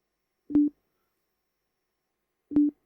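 Plain sine wave tone from a music production setup, heard as two short, pure, steady beeps about two seconds apart, clean and isolated against silence.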